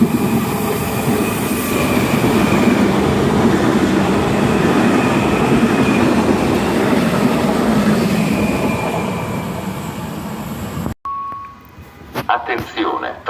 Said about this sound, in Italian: Attenzione, treno in transito al binario 2. Allontanarsi dalla linea gialla.